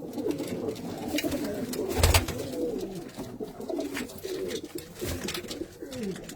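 Soft, rolling coos come from several paired pigeons on a rooftop, repeating continuously at close range, with one brief louder thump partway through and no talk over them.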